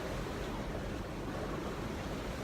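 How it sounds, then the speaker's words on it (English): Ocean waves and strong wind surround a sailboat on an offshore passage from the Chesapeake toward Bermuda, with winds around 30 knots and reefed sails, making a dense, continuous rush of water and wind noise. "The waves have picked up."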